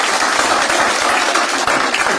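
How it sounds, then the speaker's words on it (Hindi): An audience at a comedy game show bursts into sustained, dense applause, a steady wash of clapping filling the whole moment with no pause. "एक बार जोरदार ताली हो जाए आपके लिए भी।"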